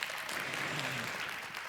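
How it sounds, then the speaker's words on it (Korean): Continuous applause from the audience at a spring launch ceremony for a Chuncheon cultural-city citizens' council, full and steady through a brief burst with no talk. "여러분 박수 부탁드리겠습니다"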